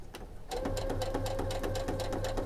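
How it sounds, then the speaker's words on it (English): A sewing machine stitching a kids' infinity scarf runs close by with a steady, rapid mechanical chatter and a low motor hum. It speeds up to a constant rhythm after a brief start, with no talking. "I'll just let the machine feed it through"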